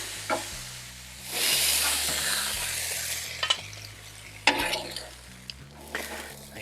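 Chicken fried rice sizzles and hisses on a Blackstone griddle while a spatula scrapes and stirs it, producing swelling bursts of frying noise and sharp metal clicks over a low, steady background hum.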